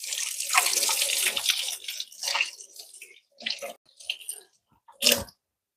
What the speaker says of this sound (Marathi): आता 1-2 मिनिट हात धुवून येते